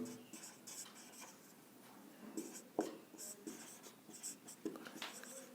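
Pen scratching across paper during a Class 8 math lesson, soft intermittent strokes and taps close by, faint throughout with brief quiet gaps between bursts of writing.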